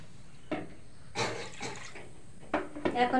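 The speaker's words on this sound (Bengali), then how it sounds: "পরিমাণ মতো জল দিয়ে দেবো" Water splashes into a pot of cooking kuche fish (swamp eel) with onion, garlic and ground cumin in several short, soft pours, fairly quiet with no talking.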